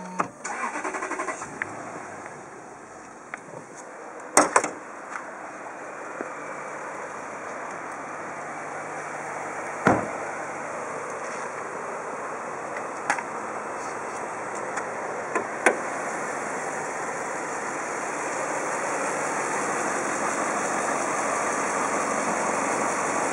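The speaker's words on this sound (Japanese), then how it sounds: "エンジンをかけてみます。" A 2005 Toyota Crown Majesta A-type with the 3UZ-FE 4.0 DOHC V8 (280 hp, six-speed automatic) is push-started, catching quickly and then settling into a smooth, steady idle, recorded close with no talk.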